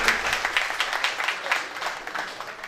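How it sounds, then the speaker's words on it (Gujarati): Audience applause at a Corona Warriors honour ceremony held by a traders' association in Amreli, a steady wash of many hands clapping at moderate distance, fading slightly toward the end. "જોરદાર તાળીઓ"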